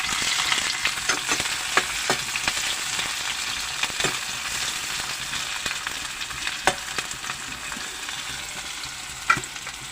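Steady sizzling and crackling of vegetables frying in a pan, with occasional sharp pops and spatters, no voices.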